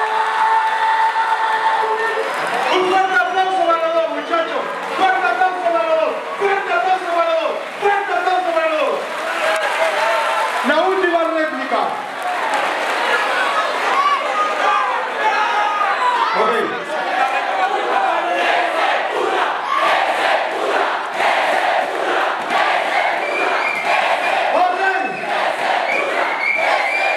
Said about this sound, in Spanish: ¡Un fuerte aplauso para los dos, muchachos!